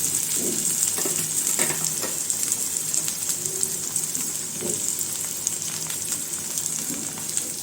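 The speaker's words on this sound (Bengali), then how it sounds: "এই তেলের মধ্যে দিয়ে দেবো পেঁয়াজ কুচি পেঁয়াজটা একটু ভেজে নেব" Steady sizzle of chopped onions frying in mustard oil with occasional stirring scrapes, constant and close, no voices.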